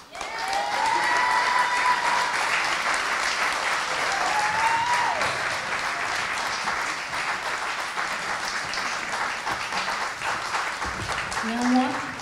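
A live concert audience applauds a guest singer at a French pop show, sustained dense clapping from a large crowd that swells slightly near the end, with some cheering mixed in.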